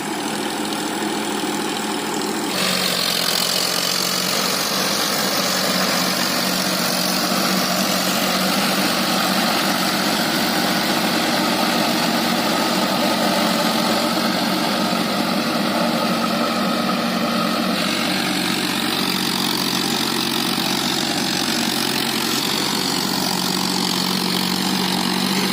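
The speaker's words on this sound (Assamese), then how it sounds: "যা ট্ৰেক্টৰ আহি গৈছে।" A tractor engine idling and running in a farm field, a steady low rumbling drone that continues evenly and fairly close, with no talk over it.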